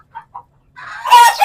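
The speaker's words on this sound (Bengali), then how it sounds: "আর এগুলো মুরগির নাম হচ্ছে পাকিস্তানি মুরগি, বা অনেকে ফাউমি মুরগিও বলে" Pakistani Fayoumi hens cluck nearby: two short soft clucks, then a louder, drawn-out squawking call rising toward the end of the moment.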